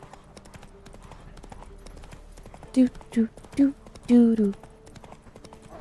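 Horse hooves clip-clopping in the video game The Witcher 3: Wild Hunt, five distinct hoof knocks in a short uneven run, close and clear over a low background hum, with a brief spoken word.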